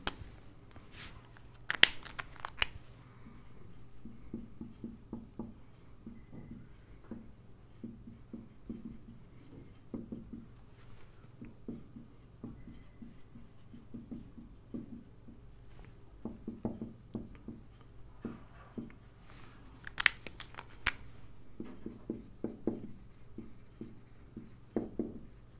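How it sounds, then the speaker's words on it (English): A pen writes on paper during a Class 10 physics lesson on mirror magnification, giving a steady run of soft scratching strokes and taps, close and quiet, with short pauses and no talk. "Let me write this down."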